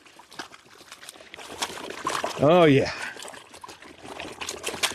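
A gold sluice mat shaken in water at Flood Gold Gulch, with a steady trickling and sloshing that swells briefly in the middle, under a man's short exclamation.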